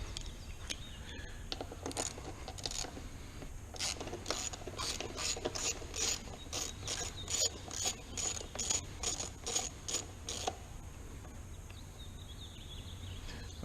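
A hand ratchet clicks in repeated bursts of rapid pawl ticks, close and loud, as 8mm bolts are loosened and backed out on a Honda Hawk 250 motorcycle.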